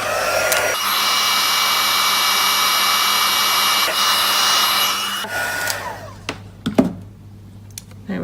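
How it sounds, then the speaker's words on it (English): A handheld embossing heat tool blows hot air over a stamped card panel. It gives a loud, steady whooshing roar for about four and a half seconds, then cuts off, leaving a few faint clicks and handling sounds. "So I'm going to heat that with the heat tool"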